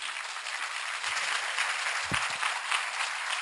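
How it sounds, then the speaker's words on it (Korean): A lecture audience at a court officials' training institute claps, a brief, steady round of applause from a room of listeners with a couple of faint thumps underneath. "용서한다면 박수를 부탁드릴게요"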